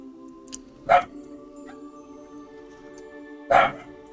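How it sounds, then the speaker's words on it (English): Pet dogs bark twice in separate short bursts, a few seconds apart and somewhat distant, over a quiet steady tonal hum. "Oh my god, my dogs are so loud."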